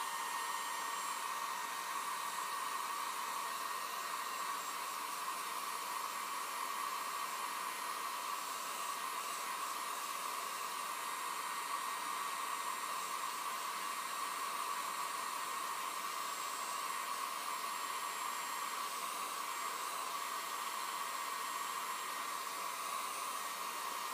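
A hair dryer blowing on a cold porcelain doll piece painted black on the back, a steady loud whooshing hum held continuously with no talk.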